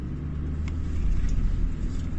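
Toyota Land Cruiser driving on a sandy riverbed in Namibia, a steady low engine rumble with a rough tyre-on-sand texture, close and continuous.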